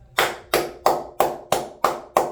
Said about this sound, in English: come on, clap with me on that one